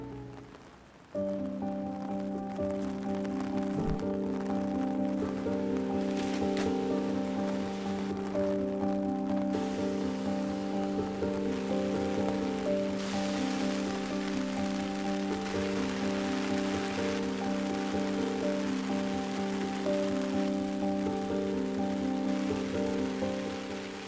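Steady rain falls on a rainy day in Japan, an even wash of drops pattering on surfaces alongside a constant low tonal hum, unbroken for the whole stretch with no voices.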